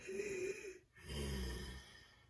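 A voice imitates ragged breathing: a raspy inhale, a brief pause, then a long rough exhale, close and fairly quiet.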